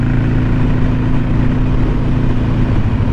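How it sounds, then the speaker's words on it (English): A 2024 Harley-Davidson Road Glide being ridden hard, its engine a loud, steady low rumble that holds continuously and close for a few seconds. "Kevin's ripping that Road Glide like it's a sport bike."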